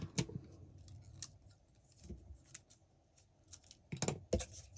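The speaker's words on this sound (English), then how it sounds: "I'm just going to cut on my ribbon first" Scissors snip through ribbon being cut for a candy flower lei, several sharp close cuts at irregular intervals with quiet pauses between.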